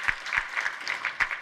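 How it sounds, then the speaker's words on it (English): Brief, faint applause from a conference audience, a handful of soft claps in a loose, uneven rhythm heard at a distance over a second or so. "Like the applause that you get when you just make a button work."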